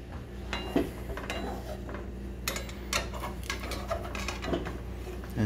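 A spatula scraping and tapping around the edges of a crepe in a pan, with soft metallic clinks and scrapes spread through the clip over a steady low background hum.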